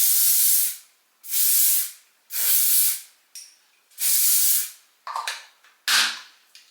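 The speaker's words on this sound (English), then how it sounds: "I'm going to add a few bits of hairspray in the top and just behind as well" Hairspray is sprayed onto hair for a sleek bun in four long, even hissing bursts close to the mic, followed by two shorter sputtering sprays, with no talking.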